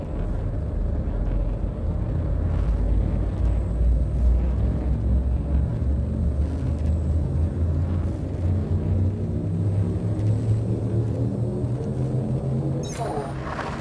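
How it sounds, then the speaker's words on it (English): In a space-flight video game, a frameshift drive charges up with a deep, swelling engine rumble and a layered, rising hum that builds steadily, and a brief whooshing sweep comes near the end. "it will charge up my Frameshift drive"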